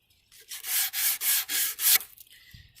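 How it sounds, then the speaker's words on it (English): A wooden board is sanded by hand with sandpaper, shaping a beveled edge: five steady, rhythmic rasping strokes, close and clear, then a brief quiet pause. "Sandpaper and sanding creates friction. So as you sand this, you'll feel this get warmer."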